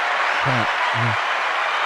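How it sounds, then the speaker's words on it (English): A live audience applauds steadily for Miss Nikki Baby on a talk show, the dense clapping filling the room while a voice briefly calls out twice over it. "Let's give Miss Nikki Baby a round of applause for being on time here"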